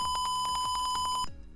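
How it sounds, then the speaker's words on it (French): A piezo buzzer on a temperature alarm circuit sounds one continuous high, loud tone, stopping abruptly just before the end. "un bip continu"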